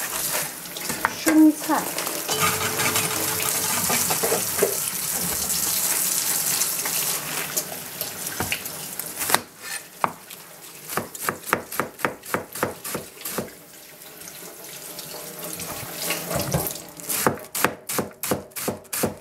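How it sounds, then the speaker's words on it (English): Tap water runs into a kitchen sink as hands are washed while preparing egg rolls, a steady broadband gush for several seconds that gives way to sharp rhythmic knocks and clatter, with people talking over it. "我先要洗手。"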